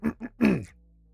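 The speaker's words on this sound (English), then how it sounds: "Let me clear my throat." A person clears their throat in three quick bursts, two short ones and then a longer, louder rasping clear, followed by near silence.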